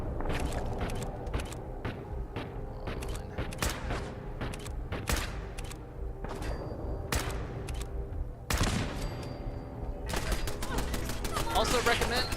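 Turret gunfire in Fallout 4 Equestria VR crackles in dense, rapid bursts of sharp shots throughout, close and loud, with a heavier clustered volley near the end.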